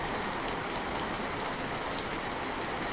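Heavy rain pours in a dense, steady roar with no breaks, loud and close, scattered drops standing out faintly against the wash.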